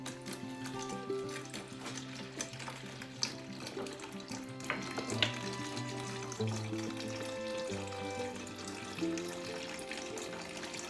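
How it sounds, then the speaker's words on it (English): Freshly pressed apple juice gushes from a cider press as it is turned, a steady faint splashing and trickling stream with small knocks and creaks. "And it will start pushing that apple juice out."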